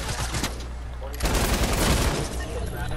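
Rapid bursts of automatic gunfire from the video game Fortnite, dense and loud, growing heavier midway through, with a voice talking over the shooting.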